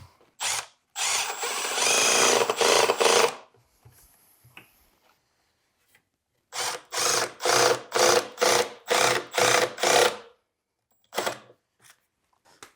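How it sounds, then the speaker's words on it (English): A power drill drives screws into a wooden chair frame from a Style 6 chair kit: one long whirring run, then about seven short, evenly spaced bursts of the motor, and a final brief spin, with quiet pauses between them. "There's no need to go super crazy with the tightening of these screws."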